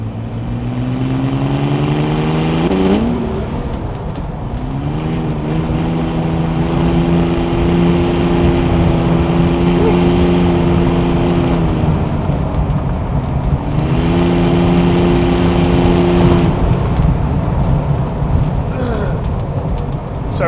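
A Land Rover Defender with a tuned M57 diesel engine accelerates through the gears at speed, with rising engine tones and brief dips at each shift. It settles into a steady road drone over wind and cabin noise.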